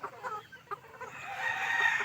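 Fighting stag roosters crowing and clucking, with short clucks early on and then a drawn-out crow. The birds sound moderately close, with no talk.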